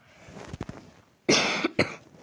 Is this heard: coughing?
yes